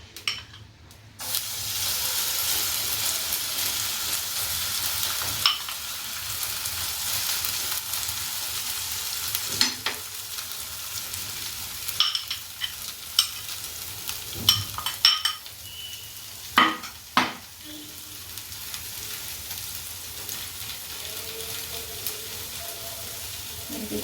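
Batter poured onto a hot oiled pan, a continuous soft sizzle with intermittent scraping and clinking of utensils, close and moderately loud.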